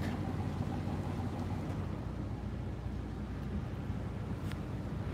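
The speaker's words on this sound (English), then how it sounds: "Wow, that's crazy wind." Strong wind during flooding in Atlantic City roars steadily and loudly across the microphone, a constant buffeting rush with no talking.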